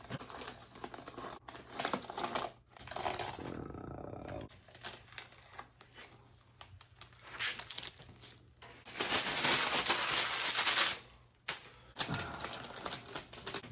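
Old, long-stuck tape peeled off a painted S-64E Sky Crane RC helicopter model, giving close crackling rips and crinkling strips in uneven bursts, with one long loud tearing pull and brief pauses between.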